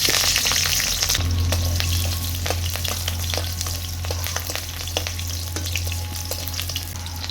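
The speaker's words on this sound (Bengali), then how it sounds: "তেল গরম হয়ে গিয়েছে, এবার এতে আমি দিয়ে দেবো কাঁচা লঙ্কা, দিয়ে দিচ্ছি চেরা কাঁচা লঙ্কা" Slit green chilies dropped into hot oil in a pan, a close, continuous sizzle with frequent sharp crackles and spitting pops, steady throughout with no talking.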